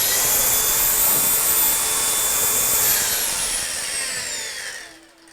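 A Makita DGA454 18V cordless brushless angle grinder runs with a loud, high steady whine, then is switched off and spins down, its pitch dropping as it fades to quiet near the end.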